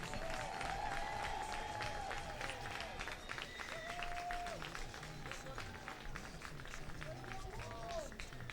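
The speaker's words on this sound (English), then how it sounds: "How about a great round of applause for head coach Hannah Dave and your conference champion Wolves field hockey team." Crowd applause and cheering for the conference champion Wolves field hockey team and their head coach, a steady dense roar through the stretch, mixed with an announcer's voice over the stadium speakers.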